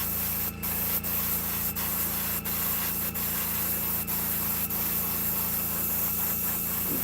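A clogged spray gun hisses and sputters while coating handmade wooden fishing baits, a steady close rushing spray broken by regular brief dropouts and pops roughly every half second, with no voices.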